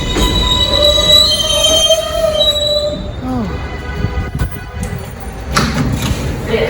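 A New York train to Staten Island rolls along with high metallic wheel squeals, then rumbles and clatters on the tracks, loud and close.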